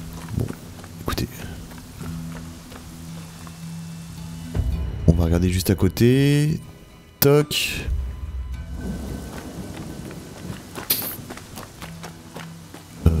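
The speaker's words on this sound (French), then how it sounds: "Ah, la tempête, c'est bien ça, c'est chouette. Les effets météo sont très cool." Thunder and rain from a stormy scene in Rise of the Ronin rumble and hiss behind footsteps and other game effects. Someone talks briefly over the storm.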